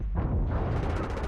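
Explosions in the tactical shooter Ghost Recon Breakpoint roar as a continuous, heavy low rumble with dense crackling debris, loud and sustained through the whole moment, without any voices.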